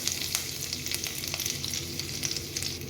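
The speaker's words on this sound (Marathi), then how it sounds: "आता आपण यामध्ये आलं लसणाची पेस्ट टाकणार आहोत." Ginger garlic paste frying in hot oil gives a bright, continuous sizzle with crackling spits, close and steady throughout, with no voices over it.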